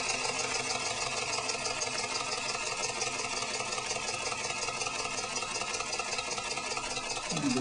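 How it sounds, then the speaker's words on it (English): A steam-driven model beam engine runs slowly at about its minimum speed on low pressure, producing a steady, even mechanical chugging and hiss heard close and alone. "About the minimum speed I can run this engine at, maybe just a little bit lower."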